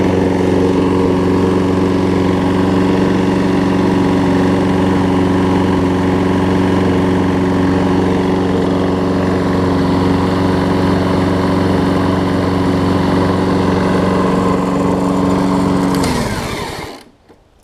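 A Troy Bilt Quantum push mower with a Briggs engine, fitted with the wrong carburetor, runs loud and steady at a constant pitch close by, then dies abruptly near the end.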